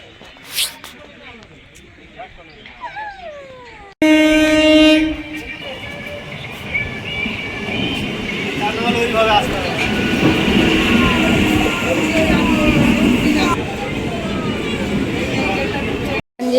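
A train pulls into a busy station, a loud steady rumble of wheels and carriages with a strong horn-like tone near the start, voices and crowd noise mixed throughout.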